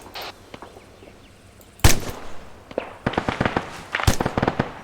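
Gunfire in the military shooter ArmA 3 during a platoon attack: scattered single shots, then two sharp loud cracks followed by bursts of rapid rifle fire, with distant echoing reports between them.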